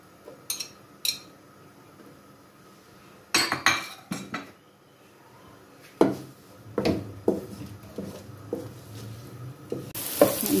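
Two chopped onions frying in a pan for black chana chaat, with spoon stirring, scraping and clinking against the pan over a low sizzle, in scattered bursts with quiet gaps between.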